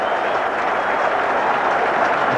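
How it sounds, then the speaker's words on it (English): A cricket crowd at Edgbaston during a 1991 England v West Indies Test applauds a fine shot: a dense, steady wash of clapping from around the ground, loud and continuous. "Applause from Pringle and from everyone around the ground."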